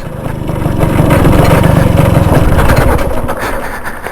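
A loud, rough 1938 NSU Quick 98 vintage motorcycle engine runs steadily at close range on a forest and off-road ride, a continuous low chugging rumble with no voices.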